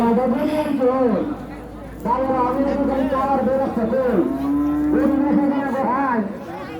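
Cattle mooing at a busy cattle and goat market, several long, loud lowing calls close by, one after another, over a constant crowd murmur.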